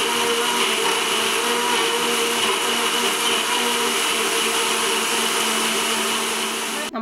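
A mixer grinder blends an avocado smoothie with sugar, a loud steady whirring motor hum that runs without a break for the whole clip and cuts off abruptly at the end, close by with no speech.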